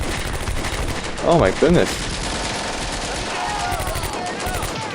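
Heavy, continuous gunfire and battle noise from a Combat Mission: Beyond Overlord WWII fight at La Fiere, a steady dense rattle with a man's short exclamation over it.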